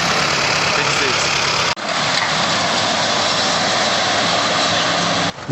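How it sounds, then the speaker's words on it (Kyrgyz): A tractor spreading and leveling gravel on a small football pitch gives a loud, continuous engine roar close by, with two brief dropouts in the sound. "Бунун ордуна шагалтып ушу трактор менен арсаны тегиздеп атабыз."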